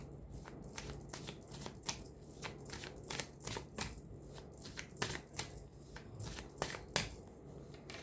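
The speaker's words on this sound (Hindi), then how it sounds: "अब हम कार्ड को शफल करते हैं।" Tarot cards are shuffled by hand up close, a steady run of soft crisp riffling slaps and flicks in an irregular rhythm, fairly quiet with no voices.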